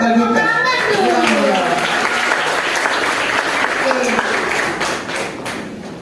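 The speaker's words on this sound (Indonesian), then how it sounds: "Beri tepuk tangan dong" Applause and hand clapping from a school talk-show audience in a classroom, steady and fairly loud throughout, with children's voices and chatter mixed in over the clapping before it eases slightly near the end.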